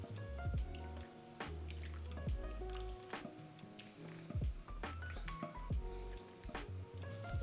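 Goulash ingredients with bay leaves being stirred in a pot, giving close, wet squishing and sloshing with repeated soft clanks of a spoon, no talking.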